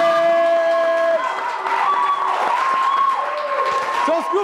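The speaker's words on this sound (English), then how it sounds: "A round of applause, ladies and gentlemen." Crowd applause and cheering for the winner of a freestyle rap battle, busy clapping and voices rising under sustained tonal sounds, with a voice still audible over the noise.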